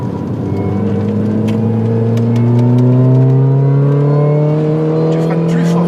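Car engine pulling steadily under light throttle, its tone rising smoothly and continuously, loud and close from inside the cabin with a driving coach talking over it.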